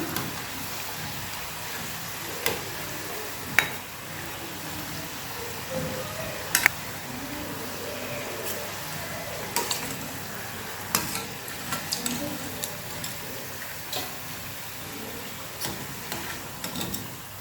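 Gram flour bondas deep-frying in hot oil give a steady, dense sizzle throughout, with occasional soft stirring clicks and small pops, close and continuous with no talk.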